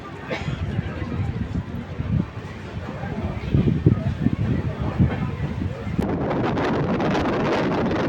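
Howrah Balurghat Express train running at about 90 km/h, a steady loud broadband rumble and rattle with wind buffeting, the roar growing denser and more even in the last couple of seconds; no one speaks.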